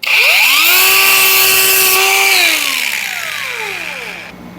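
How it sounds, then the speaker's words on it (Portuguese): Power tool sanding freshly cut pieces for a wind generator prototype, a loud close whine that spins up quickly, holds steady, then winds down gradually as the motor slows. "Agora eu vou lixar aqui, ó, pra não ter perigo de cortar a mão"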